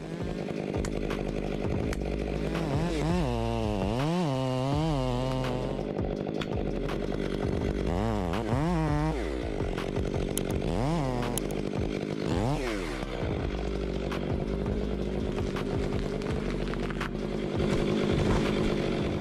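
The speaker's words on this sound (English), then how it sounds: "The MIS 500E chainsaw is a true wonder in the world of woodcutting." An MIS 500E chainsaw cuts into a large old pine tree, its engine revving up and down in repeated surges and dropping back between cuts, loud and close with no speech.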